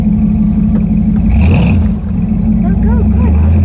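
A 1968 Dodge Charger R/T engine revs steadily as the car accelerates, heard from inside the cabin as a loud, constant mechanical drone with faint clatter, and a voice speaks briefly over it.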